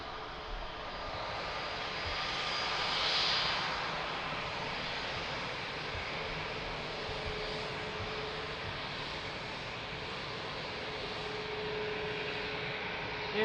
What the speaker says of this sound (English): Beautiful approach and landing.